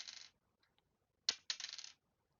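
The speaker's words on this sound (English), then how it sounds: "give me just a sec to roll some dice" Dice being rolled during a Dungeons & Dragons tabletop session: two bursts of bright clattering, the first rattling about a third of a second, then after a pause a sharp knock followed by a longer tumbling rattle, close and with no talking.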